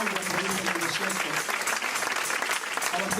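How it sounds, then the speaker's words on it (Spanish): A church congregation claps in sustained applause, a dense, steady patter of many hands filling the room for a few seconds, with a preacher's voice over it. "Dale un aplauso, ¿sí?"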